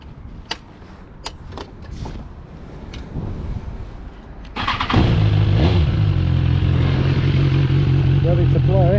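A 2020 BMW S1000 XR motorcycle engine starts partway through and then settles into a loud, steady close idle with some revving, after a stretch of quieter clicks and handling noises.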